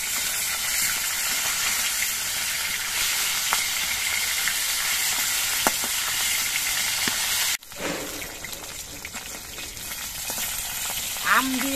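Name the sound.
katla fish pieces frying in oil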